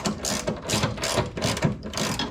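A ratchet clicks in quick repeated bursts while it tightens a screw, treated with thread locker, on the front suspension of a Porsche 911 being reinstalled after a rebuild; the clicks are close and steady, with no talk.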